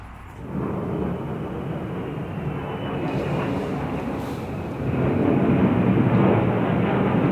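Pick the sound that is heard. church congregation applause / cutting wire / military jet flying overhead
military jet flying overhead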